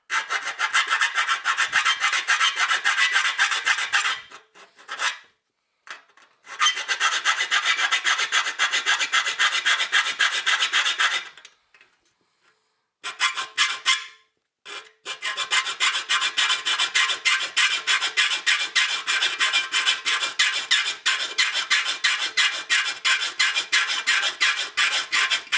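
A straight round file rasps steel on a tube amplifier chassis, steady repeated back-and-forth strokes close up, with a few short pauses between bursts of filing.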